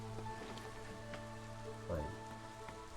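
Rainfall in the video game Against the Storm, a quiet, even patter under a sustained tonal game backdrop, with a brief louder burst near the middle and no voices.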